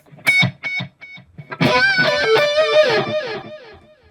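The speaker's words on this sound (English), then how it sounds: "speaking of delay and reverb, I'm using the ping pong here" Electric guitar notes, a few plucked single notes then a ringing chord, with long ping-pong delay repeats and reverb trailing and decaying afterward.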